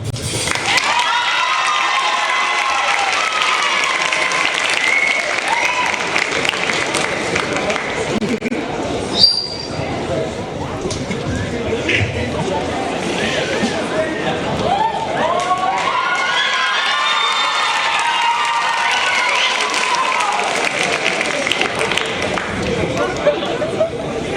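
A high school senior solos concert audience applauds and cheers for a soloist, with steady crowd noise, shouts and whoops running throughout at a loud, constant level.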